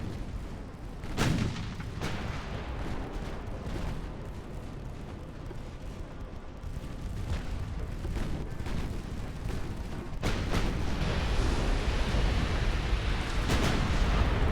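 A torpedo bursting underwater in the naval game Ultimate Admiral: Dreadnoughts gives a deep, muffled boom over continuous rumbling battle noise, which swells louder partway through and holds as a heavy roar.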